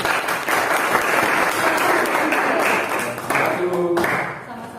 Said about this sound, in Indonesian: mari kita berikan tepuk tangan dulu untuk teman yang sudah presentasi